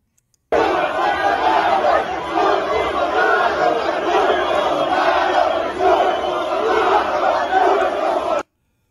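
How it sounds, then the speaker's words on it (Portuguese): Large stadium crowd at Morumbi chanting Bolsonaro's name, a loud, continuous roar of many voices shouting in unison that holds steady for several seconds before cutting off. "olha só o pessoal uh, gritando o nome do Bolsonaro aqui"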